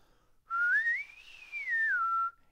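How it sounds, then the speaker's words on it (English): A single clear whistled note rises in pitch, holds briefly, then glides back down, close and alone in a quiet room. "I'll actually have them just blow air and try and whistle"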